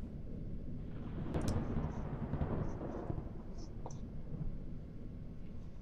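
Thunder rolling with lightning in The Joy of Creation horror game, a deep rumbling crack swelling then fading into a low continuous roar over a dark, steady background.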